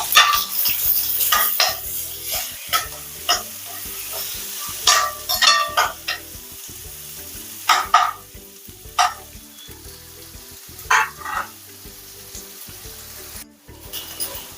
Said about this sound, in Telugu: ఇవి వేగుతున్నాయి కదండి.